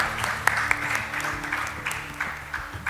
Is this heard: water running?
no